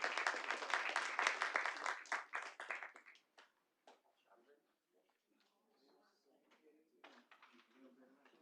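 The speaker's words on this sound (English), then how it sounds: "Let's give another round of applause." Applause at a city board of directors meeting in Little Rock, a dense burst of clapping from a room of people that thins out after about three seconds into scattered claps and quiet room noise.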